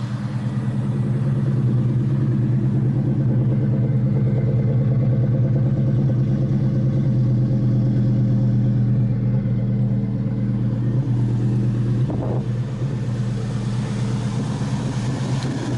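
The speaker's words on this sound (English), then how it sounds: "I'm not sure how well you guys can hear me over the loudness of this engine" A 2001 Ford Mustang Bullitt fitted with BBK long-tube headers idles loudly up close, giving a steady, deep, throbbing rumble throughout with a brief clunk near the end.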